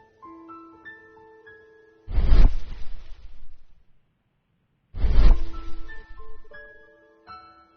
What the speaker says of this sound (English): An old locomotive bell